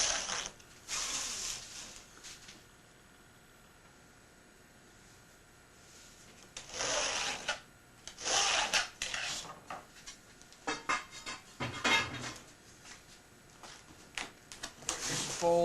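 A straight screwdriver scores a 2mm sheet in a few separate scraping passes, each a short, bright rasp with quiet gaps between, close and fairly soft, then sparse small clicks and scrapes.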